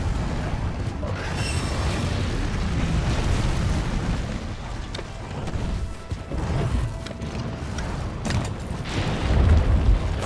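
A bomb goes off in Monster Hunter World, a heavy, sustained booming roar that rumbles on for several seconds with a renewed low surge near the end.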